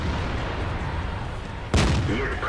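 A single loud cannon blast from a tank in the Object 140 tank video game, sudden and sharp with a lingering rumble, rising over steady engine and battle noise.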